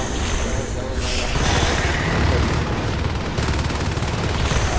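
Heavy gunfire in the Natural Selection 2 video game forms a loud, dense, continuous barrage of shots with no break.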